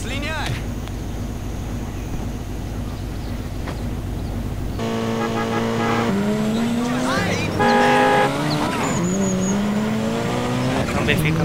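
A car drives in GTA San Andreas, its engine humming steadily, then revving and rising in pitch with tire squeals and shifting tones, loud throughout with no talk.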